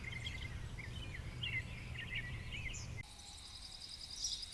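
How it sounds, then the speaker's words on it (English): Bird calls and chirping insects fill an outdoor ambience bed built for an audio drama, with wind, foliage and air around them; the layered ambience holds steady, then shifts to a higher, denser insect texture partway through. "insects and birds"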